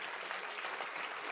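Dense audience applause at a Tamil comedy speech by Gnanasambandam, a steady wash of many hands clapping together throughout, fairly loud and without talk over it.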